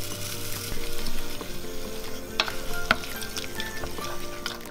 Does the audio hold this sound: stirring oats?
yes